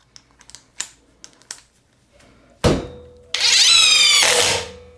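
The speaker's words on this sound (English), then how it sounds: "let's put in another screw here, or speed 3" A DeWalt 20V MAX XR brushless cordless 1/4 in impact driver drives a screw: a brief motor spin, then a loud, close rattling hammer burst lasting over a second, preceded by a few faint clicks.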